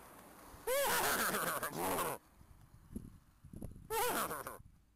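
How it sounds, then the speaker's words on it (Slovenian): A horse calls out outdoors on a farm: two loud, drawn-out, wavering cries close by, quieter rustling between them, then a third shorter cry near the end. "Ti si konj, vidim, povej kaj."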